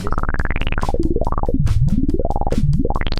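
A warbling synthesized tone sweeps up and down in pitch with a fast pulsing flutter, like a bubbly electronic effect, loud and continuous.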